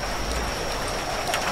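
Steady rain falling in the horror video game The Bathhouse, a constant dense hiss that holds evenly throughout, with a faint high tone running underneath and no voices.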